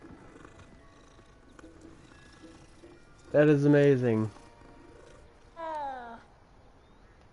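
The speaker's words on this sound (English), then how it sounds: "Oh, I can pet the cat." A cat in the Hogwarts Legacy video game gives two short, loud, tonal purr-like calls while being petted, the first longer than the second. Quiet talk runs beneath.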